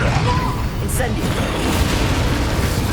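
The Incendio fire spell in Hogwarts Legacy erupts as a loud, rumbling whoosh of flame with booming bursts, close and continuous through the moment, a voice speaking amid the combat.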